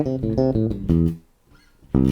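An electric guitar plays a quick major pentatonic run with added chromatic passing notes, clear distinct notes in a rapid sequence, then a pause and one more struck note.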